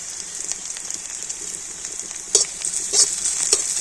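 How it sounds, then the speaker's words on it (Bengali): Finely minced garlic and ginger frying in oil produce a close, bright, steady crackling sizzle, with a few louder spattering bursts near the end and no voices. "তো আদা রসুনটা তেলের সাথে একটু ভেজে নেব।"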